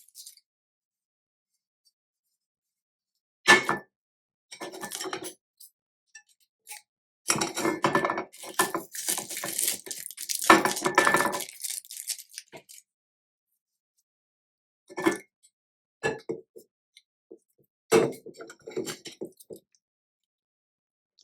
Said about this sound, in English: And then I try to just start unwrapping the tape.